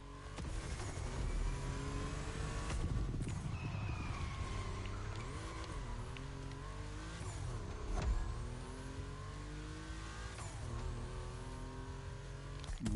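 Race car engines in the video game The Crew Motorfest roar and rev continuously, pitch climbing and falling through gear shifts with tire skids, loud and close throughout with no talking.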